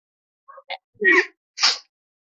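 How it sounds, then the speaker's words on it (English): A few quick indrawn breaths build up, then a short sneeze bursts out, followed by a second higher-pitched sneeze, close and fairly loud. "I'm like sneezing so bad too."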